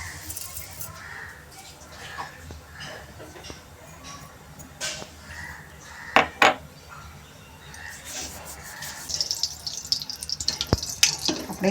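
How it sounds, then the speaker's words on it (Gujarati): Mustard seeds splutter in hot oil for a tempering, giving scattered sharp pops and crackles over a soft background while someone talks nearby. "આપણી રાઈ તતડી છે."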